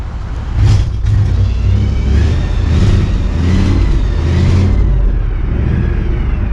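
A parked car engine revs up and holds a high, slightly whiny idle, loud and close, sustained throughout with short throttle swells and no talking.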